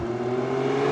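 A Maserati Grecale Trofeo SUV in comfort mode: a close, steady engine drone with a humming gear whine, holding a constant pitch through a brief moment of driving.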